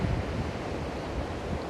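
Waves breaking on a beach in West Sulawesi where fishing boats are pulled up, a continuous broad roar of surf mixed with wind buffeting the microphone, loud and close.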